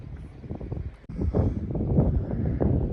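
Gusty outdoor wind buffets the microphone near a group of flamingos, a rough low roar that rises and falls for a few seconds with no other clear sounds.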